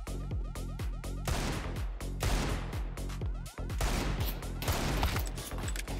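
Rapid, loud bursts of gunfire from Counter-Strike 2, fired in quick repeated volleys with a short pause near the middle, close and continuous with no talking.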